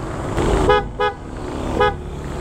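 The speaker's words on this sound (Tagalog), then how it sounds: "napalitan ko rin to ng busina pala guys, piyaya na busina, yan oh. Pakinggan niya." Three short, bright motorcycle horn beeps from a Yamaha NMAX, two close together then one after a pause, sounding high and toy-like over a low idling rumble.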